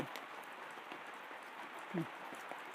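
Rain falls steadily outside a backyard chicken coop, an even close hiss of drops on surfaces that carries on without a break, with one soft thump partway through.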